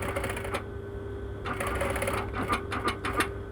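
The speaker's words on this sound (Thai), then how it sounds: "ลองดูก่อนนะว่า จากเราเนี่ยมันจะเย็บผ้ายืดตัวนี้ได้ไหมนะคะ" Sewing machine stitching stretch fabric and elastic for a swimsuit waistband, a steady mechanical whir with short bursts of faster needle chatter toward the end, close and moderately loud.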